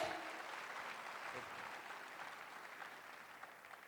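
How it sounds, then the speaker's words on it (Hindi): A crowd at a corporate success-day gathering in Delhi claps in a steady, moderately distant round of applause that lasts several seconds and slowly fades. "इनके लिए जोरदार तालियां। एक जोरदार ताली आपके लिए।"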